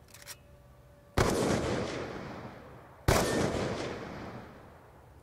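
Two loud, booming sniper rifle shots in a video game, about two seconds apart, each leaving a long echoing tail that fades slowly, with no talk in between.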